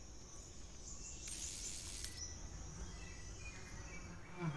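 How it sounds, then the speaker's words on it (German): Bees buzz in the Metal Gear Solid 3 video game, a faint steady drone over a constant insect-filled jungle ambience, with no talk. "Bienen."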